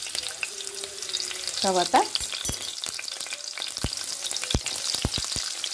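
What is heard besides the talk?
frying green chillies in hot oil for vegetable fried rice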